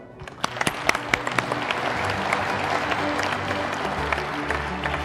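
Audience applause at a membership and awards breakfast, beginning with a few sharp individual claps that swell into a steady, full round of clapping from a crowd.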